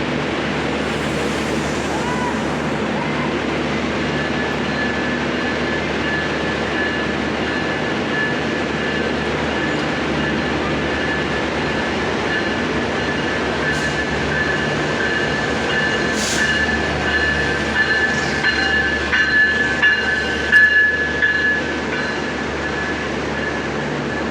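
A train pulls out, its engine and wagons giving a loud continuous rumble close by, with faint voices and occasional metallic clanks rising near the end.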